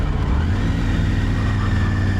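A motorcycle engine runs steadily in the wrong gear, a continuous low, strained drone with road rumble throughout.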